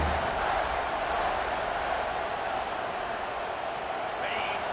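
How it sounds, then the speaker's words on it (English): Broad, steady roar of a large stadium crowd in a college football video game, constant and loud throughout with no clear breaks. "This crowd bringing the energy and noise early."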